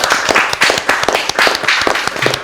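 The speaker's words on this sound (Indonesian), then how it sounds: "Tepuk tangan dulu semuanya." A talk show audience claps together in a dense, loud burst of applause that continues without a break.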